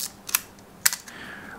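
An Olympus 35-S rangefinder camera being wound and fired while loading film, giving a few sharp mechanical clicks and ratcheting snaps in two clusters, close and crisp in a quiet room.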